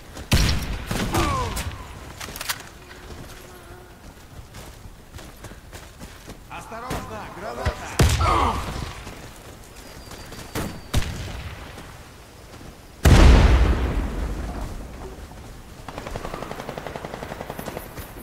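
A grenade blast in an online shooter game lands as a loud, heavy boom partway through, amid scattered gunfire and in-game voice callouts.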